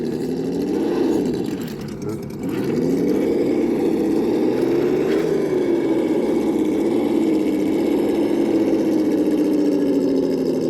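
Traxxas TRX4 RC truck with a Hobbywing motor driving in second gear, a steady whining electric motor drone with wavering pitch and a brief dip in level early on.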